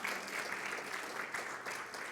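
Congregation in church applauding for Jesus, a dense, even patter of many hands clapping at once, steady and somewhat distant, with no voices standing out.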